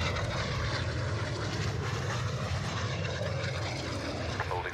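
A VTOL aircraft engine in a video game gives a steady, loud, droning roar with a dense mechanical hum that holds constant throughout, with no talk.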